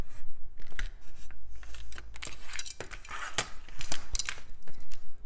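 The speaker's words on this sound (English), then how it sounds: "get my X-Acto and cut on the inside" An X-Acto knife scrapes and clicks in short irregular strokes while cutting through a diamond art cover, close and crisp with small clinking taps between cuts.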